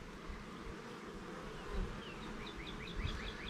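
Honey bees buzzing around open hive frames during a hive check, a dense, steady droning hum with individual bees whining past close to the microphone.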